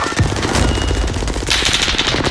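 Rapid automatic gunfire bursts out loud and close in a multiplayer shooter game. Dense repeated shots are followed by a brighter volley near the end.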